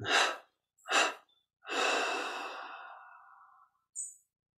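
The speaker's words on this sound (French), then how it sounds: "Puis on inspire profondément par les narines. On expire en 3 fois." Slow, deep breathing for guided yoga meditation: two short, soft intakes through the nose, then one long, gradually fading exhale, with a faint breath at the end, close and quiet with no talk.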